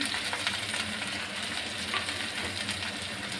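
Onions and curry leaves frying in hot oil, a close, steady crackling sizzle with faint stirring, continuous and even, no voices.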